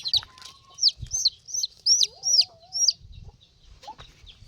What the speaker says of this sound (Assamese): আমাৰ নতুনকৈ পোৱালি হোৱা মুৰ্গী কেইটামান গাঁতত পৰি আছে